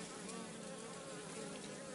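Bees buzzing during a Kenyan top-bar hive inspection: a dense, continuous swarm drone, close and steady, with no voices.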